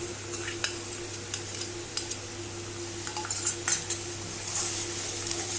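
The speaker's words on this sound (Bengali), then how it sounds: "এবার এটা কষাবে যতক্ষণ না পর্যন্ত তেল বেরিয়ে আসবে" Spice paste of chilli, cumin, turmeric and garam masala mixed with water, stirred and fried in a pan, with repeated scraping and clinking of a spoon against metal over a low sizzle and steady hum, no voices.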